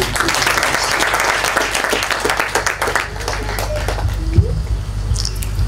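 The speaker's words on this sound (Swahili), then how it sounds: "Pigie Bwana Yesu makofi" A church congregation claps for Jesus after a sermon, a full sustained round of many hands clapping close by, steady and loud, fading slightly toward the end.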